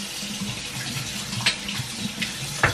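Hot water runs steadily from a tap while a teaspoon is washed under it, giving a continuous splashing hiss with a couple of brief clinks or spatters near the end.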